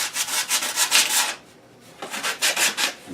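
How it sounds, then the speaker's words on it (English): Sandpaper rubs quickly over a wooden turkey call kit in rapid back-and-forth strokes, close and steady, with a brief pause midway before the strokes resume. "So we will take sandpaper and just start trying to get this as smooth as we can."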